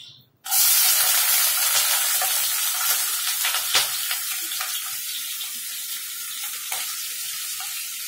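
Onions and cinnamon sticks fry in hot oil in a pan for a home-cooked chicken curry: a loud, steady, broadband sizzle begins abruptly and runs continuously, with faint clinks from stirring.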